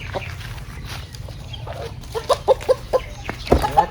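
A rooster clucks in a poultry yard, several short clucks and calls in a loose rhythm growing louder toward the end, over a low background rumble of farm noise.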